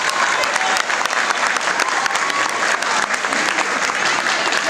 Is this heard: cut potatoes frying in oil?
no